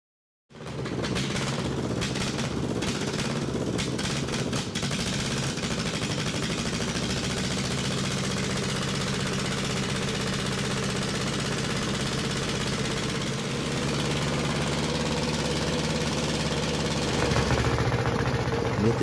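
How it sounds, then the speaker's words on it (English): A small pony starting engine on a Caterpillar RD7 tractor starts up and keeps running with a steady, rumbling chug, loud and close, holding an even idle to the end. "we got the starting engine running good enough to make another attempt at the diesel"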